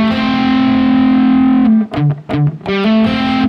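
A distorted electric guitar plays a riff, starting with one long sustained note, then a run of short, choppy, muted notes and a final held note, loud and up close.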